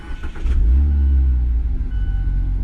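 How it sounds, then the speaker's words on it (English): A 2023 Mazda MX-5 Miata Club with side exhaust starts up, a brief crank then a loud, close exhaust blurb to about 2000 RPM that settles into a deep, steady idle rumble. "when you start it up, even if it's warm, it does a little 2000 RPM blurb"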